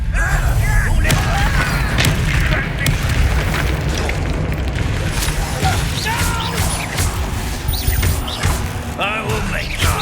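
Repeated booming fiery blasts from the Confringo spell in the Hogwarts Legacy video game, loud and dense over rumbling low end, with a voice shouting spell names amid the explosions.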